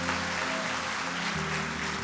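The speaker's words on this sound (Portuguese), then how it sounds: "Se você recebeu algo, aplaude o Senhor bem forte." A church congregation applauds loudly during a worship service, a dense steady wash of clapping with a faint sustained musical tone underneath and no talking.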